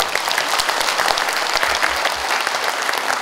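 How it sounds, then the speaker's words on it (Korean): An audience at a public lecture applauding Vietnam War veterans, sustained dense clapping from a crowd in a hall, loud and even throughout with no talk over it. "이분들에게도 박수를 보내주십시오."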